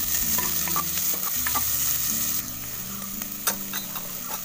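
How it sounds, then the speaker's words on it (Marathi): Onion fries with garlic and cumin in a pan, a steady close sizzle with occasional scrapes and taps of a spatula stirring it, and no talking. "आता कांदा किने चांगला असा लाल करून घेऊया आपण."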